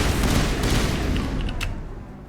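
Dense, loud gunfire fills a firefight in the game Mass Effect 1, with rapid overlapping shots and booms that fade slightly toward the end.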